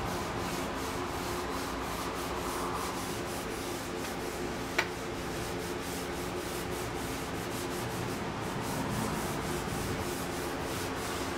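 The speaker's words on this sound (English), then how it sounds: "I'm going to start off with my triple alt steel wool pads. Give them a light rubbing." Triple-aught steel wool pads rub lightly over wooden cabinet parts in a continuous, close scratchy hiss with one brief tap partway through.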